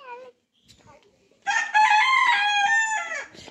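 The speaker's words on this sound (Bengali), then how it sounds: "দেখছো মোরগ ডাকতেছে।" A rooster in a village crows once, a loud, close, drawn-out cock-a-doodle-doo lasting nearly two seconds, after a brief clucking note and a short quiet pause.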